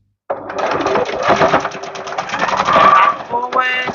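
A domestic sewing machine stitches fabric for a bow, running in a steady rapid whirr with brief pauses as the stitching reverses direction, close and fairly loud while a person talks over it.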